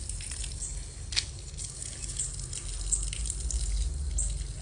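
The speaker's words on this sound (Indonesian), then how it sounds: "cuci dulu cuci dulu tangannya cuci dulu kakinya" Running water splashes and drips steadily as a child's hands and feet are washed at a tap during midday garden watering, with a couple of brief sharper splashes over a continuous outdoor wash.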